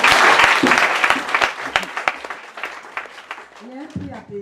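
A church congregation breaks into loud applause during a Sunday sermon, a dense wash of clapping that gradually thins and fades, with a voice speaking near the end.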